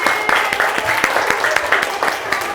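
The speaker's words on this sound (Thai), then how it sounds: "ปรบมือให้เพื่อนแล้วครับ" Students clapping for classmates in a school classroom after a group wind-instrument performance, a short burst of scattered, uneven hand claps, fairly close, with some talk mixed in.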